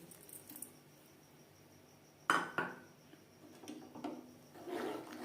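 Washed Gobindobhog rice for a date-palm jaggery payesh goes into a pot with a sudden clattering knock, followed by a second softer clink and some quieter rustling and scraping, all fairly faint.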